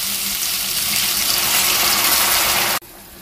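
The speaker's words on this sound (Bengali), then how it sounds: "এবার আমি দিয়ে দেবো উষ্ণ গরম জল।" Warm water poured into a pan of potol chingri curry, a steady loud gushing pour that runs continuously for nearly three seconds before cutting off abruptly, with no talking.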